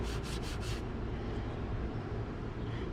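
Brush scrubbing toothpaste on the headlight of a Chrysler 300c, a continuous close rubbing rasp, with a few quick back-and-forth strokes at the start blending into steady scrubbing.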